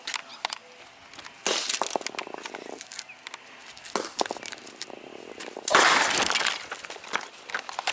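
A phone struck and shattered with a bocce ball, giving repeated loud crunching and cracking bursts of breaking glass and debris, with a big crash near the middle and another sharp burst toward the end, all close by.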